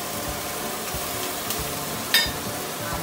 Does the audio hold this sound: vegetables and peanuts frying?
yes